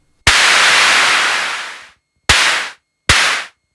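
Three bursts of harsh white noise from a JHS drum synth's noise oscillator, a long one that fades out followed by two shorter hits, loud and close.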